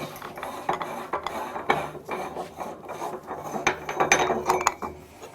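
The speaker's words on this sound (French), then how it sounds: "On va dévisser la bague de la machine." Ring being unscrewed from a fresh pasta extruder machine, a close, continuous grinding and ratcheting metal rasp with irregular clicks that swell and fade over several seconds, with no voice.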